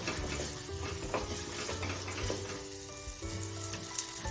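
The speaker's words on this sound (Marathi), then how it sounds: "आपल्याला हे पूर्ण मिश्रण तेल सुटेपर्यंत फ्राय करून घ्यायचं आहे" Ground masala and red chili powder fry in oil for a spicy kat vada gravy, giving a continuous close sizzle with occasional stirring scrapes and a faint steady hum underneath.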